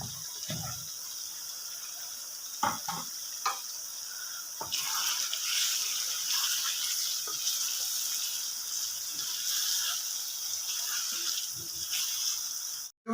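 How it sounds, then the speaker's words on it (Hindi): Raw chicken going into a pan of softening tomatoes for a dhaba-style chicken palak, giving a soft steady sizzle and watery bubbling with a few brief clatters, moderately loud and with no talk. "तो 500 ग्राम चिकन मैंने ले लिया था, मैं इसको इसमें ऐड कर रहा हूँ।"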